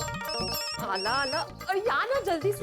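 A telephone rings with a high, repeating electronic tone while people talk close by over it.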